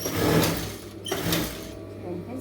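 A sewing machine stitching a blouse runs in short whirring bursts, close and moderately loud, while a person speaks over it.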